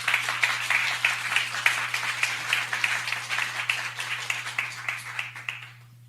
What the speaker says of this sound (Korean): 큰 박수로 한 번 더 환영하겠습니다